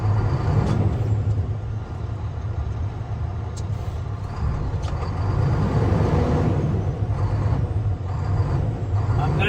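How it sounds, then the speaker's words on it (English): Semi truck engine labouring loudly while its wheels spin on ice in remote Montana wilderness, a sustained rough drone with hiss and brief bursts, no voices over it. "I'm doing it with this semi, which is a lot worse. I can't move. I can't move. I'm spinning on ice."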